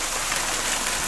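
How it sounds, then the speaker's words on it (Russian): Steady rain falls outdoors around a porch, an even dense hiss of drops on surfaces with no voices and no pauses. "дождик идет."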